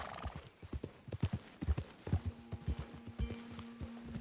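Hooves clip-clop at a steady walking rhythm, close and clear, with a brief horse whinny and a faint electronic tone in the background, from a horse in a video game.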